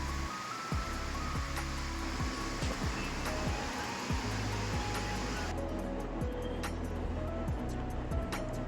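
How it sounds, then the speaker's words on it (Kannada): Gokak Falls on the Ghataprabha river drops roughly 170 to 180 feet, giving a broad continuous roar of falling water with a low rumbling bed and some faint tonal hum and scattered clicks on top. "170ರಿಂದ 180 ಅಡಿ ಎತ್ತರದಿಂದ ನೀರು ಇದು ಬೀಳ್ತೈತಿ"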